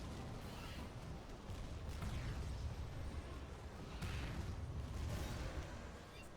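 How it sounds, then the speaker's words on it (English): Bandit Footmen explode in turn after a Soul Shatter in the Skylords Reborn strategy game, giving a dense, rumbling wash of overlapping blasts with a few swelling booms and no talk over it. "these Bandit Footmen are gonna die and they are gonna explode in turn"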